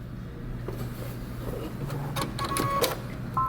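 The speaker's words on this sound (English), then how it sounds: "I'm going to go ahead and sew my sleeves together" A sewing machine joins the sleeves of a shirt dress with a steady low mechanical hum, a light patter of needle clicks and a few brief ticks near the end, close and fairly quiet.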